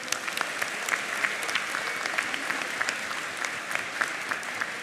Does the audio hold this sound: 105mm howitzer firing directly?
no